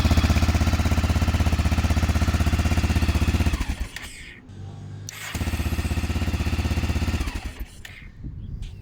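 A motorcycle engine runs after a blown fuse is replaced, idling loud and steady with a rapid rhythmic beat, cutting out briefly, then restarting before settling again.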